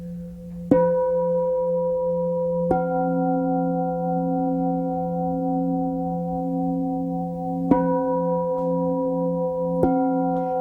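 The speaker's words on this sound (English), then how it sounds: "As the gong tones sound" Deep, sustained resonant tones ring out, with fresh strikes at irregular intervals layering over long humming overtones that hang and slowly fade.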